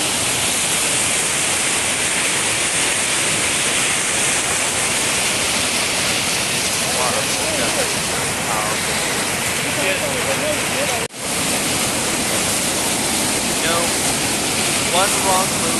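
A constant loud roar of rushing, falling water from a waterfall in Valdez, Alaska fills the whole stretch, close by, with a voice faintly audible beneath it.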